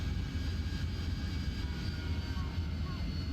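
An AV-8B Harrier jet engine roars steadily during landing in the DCS flight game with nozzles angled down, a loud continuous rumbling whine from start to finish.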